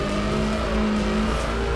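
A race car's engine in Need for Speed High Stakes drones loud and steady, a sustained revving tone that holds throughout the short stretch with no talk.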